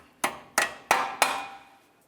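A hammer strikes four sharp metallic blows in an even rhythm, peening over the ears of a cotter pin on a tie rod end of a 1999-2003 Toyota Solara, each ringing briefly up close.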